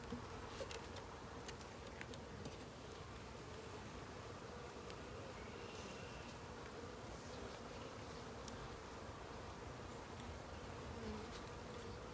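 Dense, continuous buzzing of many honey bees on hive frames close by, a steady low hum with no voices.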